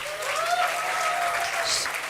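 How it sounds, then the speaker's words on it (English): Applause at a degree certificate distribution ceremony, a dense, even wash of many hands clapping at moderate distance, sustained without break. "Can we have a huge round of applause?"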